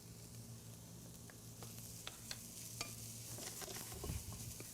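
Eggplant and freshly added garlic sauté in a pan, a steady low sizzle running throughout with occasional sharp utensil ticks and stirring scrapes, close and fairly quiet.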